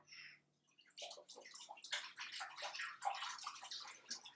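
A kitchen bowl is washed under running water, with splashing, sloshing and trickling that starts after a short quiet moment and continues faint and uneven, close by.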